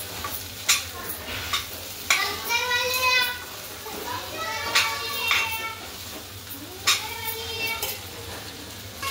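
Sabudana khichadi is stirred and sautéed in a pan, with a steady sizzle and scraping spoon strokes, while someone talks over it throughout.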